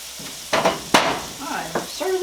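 Pineapple fried rice is stir-fried in a pan, giving a few short scraping and sizzling bursts of spatula on metal, close and moderately loud, with a brief sharp clatter near the middle.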